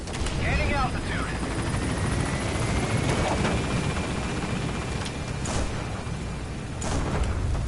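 Helicopter rotor and engine roar steadily and loudly throughout as it climbs away from a sandstorm-swept landing zone in the video game Metal Gear Solid V: The Phantom Pain, with brief radio-style voice chatter over the din.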